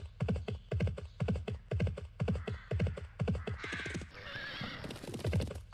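In the PS1 game Barbie: Race and Ride, a horse's hooves clip-clop in a steady rhythm, followed by a loud neigh, close and clear with no talk.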